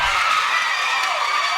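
Audience at a Ghanaian literacy quiz show roars and cheers for the young winner, a sustained, loud wash of crowd noise and clapping with no pauses.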